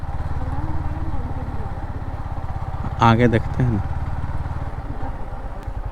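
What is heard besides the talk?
motorcycle engine idling while parking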